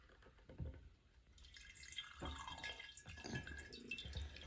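Persimmon wine is poured from a jug into a secondary fermenter, a steady liquid splash and trickle with dripping, close and moderately loud throughout.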